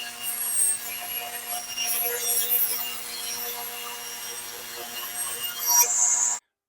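Steady rasping of a hand saw cutting wood, a continuous scratchy stroke sound at close range that stops abruptly near the end.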